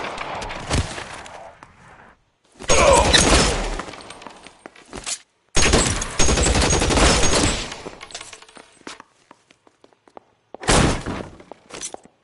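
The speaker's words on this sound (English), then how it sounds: "Shots fired." Loud bursts of gunfire in L.A. Noire come in several separate volleys broken by near-silent gaps, with some sharp crashing mixed in.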